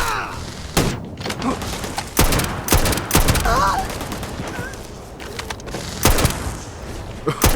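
Gunfire in Starfield, with repeated loud shots and short bursts spread across the stretch, some spaced seconds apart, with a voice talking in between.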